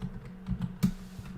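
Keys on a computer keyboard are struck in a few quiet, irregular taps and clicks, one sharper than the rest, over a low steady hum.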